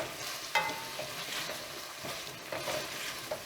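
Seasoned squash, zucchini, cherry tomatoes and chicken sizzle in a hot pan while a utensil stirs and scrapes through them, making soft repeated scuffs over a constant frying hiss.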